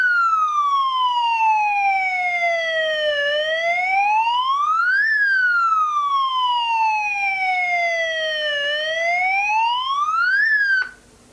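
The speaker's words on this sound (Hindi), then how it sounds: "सबसे बड़ी चीज है ये सायरन कंटिन्यूअस 3 से 4 घंटे तक बजता रहता है" An electronic shutter security siren alarm wails loudly and continuously, its pitch sweeping slowly up and down in long repeating cycles before cutting off abruptly at the end.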